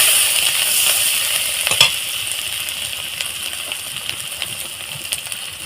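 Ginger sizzling in hot oil in a pan for a fish curry with papaya and potato, a steady close frying hiss with a stir and a clink partway through.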